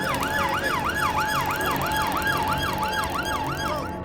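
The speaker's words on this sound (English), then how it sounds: "I can hear the sirens of my colleagues turning up" Wailing police car sirens of arriving vehicles, a loud continuous up-and-down siren sweep repeating steadily and close, with several sirens overlapping and no talk.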